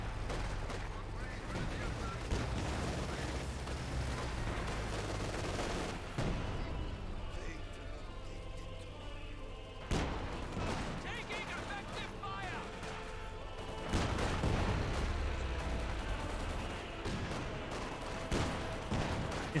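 MG34 machine gun bursts and mixed gunfire with artillery-like booms in Company of Heroes 2, a dense, continuous battle din with louder crashes around the middle and later stretches, game combat noise throughout.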